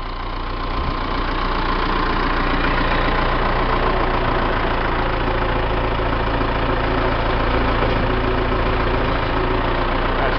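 The engine of a tractor pulling a 2.5 yard two-wheel scraper idles steadily and loudly while the scraper is raised to full dump, a close, constant mechanical drone with a faint knock and no voices.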